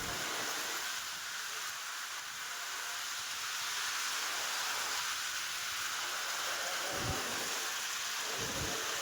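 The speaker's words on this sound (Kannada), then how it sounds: "ನೋಡ್ರಿ ಫುಲ್ ಜೋರಿದೆ ಮಳೆ." Heavy rain pours in a steady, dense hiss, with deep thunder rumbling low a couple of times near the end.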